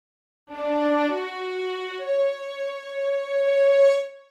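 A Session Strings software string ensemble plays a short melodic phrase with legato switched on, notes gliding smoothly into one another as sustained bowed tones, rising slightly in loudness toward the end.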